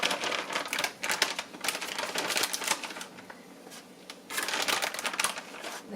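Flaked coconut pouring from a bag into a coconut cream pie filling, a dry crinkly rustle of plastic and falling flakes in bursts, close and moderately loud, with a pause midway before resuming.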